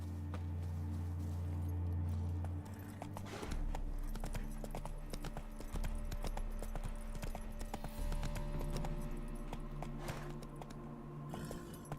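Roach, Geralt's horse in The Witcher 3, gallops with a steady, rapid clip-clop of hooves that carries on for the whole stretch, fairly close, over a low rumbling game background and occasional jingling tack.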